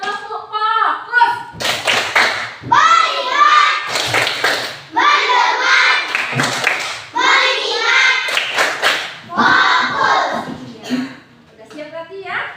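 A primary school class performs a tepuk fokus routine, loud unison hand claps in rhythmic bursts alternating with children chanting the words together, with a teacher's voice at the start.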